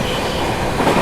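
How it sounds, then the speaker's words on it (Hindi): Sampoorna Kranti Express train running fast on the track, a loud close continuous rumble and rattle of rail travel with no voices, swelling slightly toward the end. "ट्रैक साउंड सुनना।"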